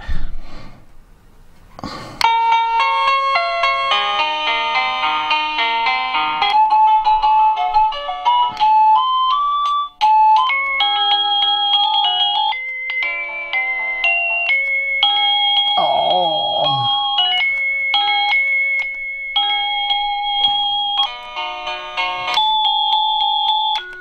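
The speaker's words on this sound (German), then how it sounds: "ich klingel jetzt mal" A wireless doorbell set for a house door plays a long series of bright electronic chime tunes, loud and close, running continuously with short pauses between melodies and a brief breathy snort partway through.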